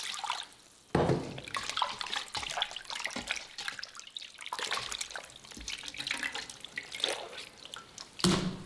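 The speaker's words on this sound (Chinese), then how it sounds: "3分钟之后，加入滚水清洗干净。" Salted pork tripe is rinsed clean with boiling water in a basin, continuous splashing and trickling water with handling noises and sloshes, close and moderately loud.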